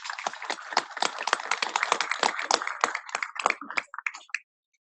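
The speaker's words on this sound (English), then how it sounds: "Let's give them a big round of applause, please." An audience at a military association coffee series event breaks into a brisk burst of applause, with many quick overlapping claps that thin out and stop abruptly after about four seconds.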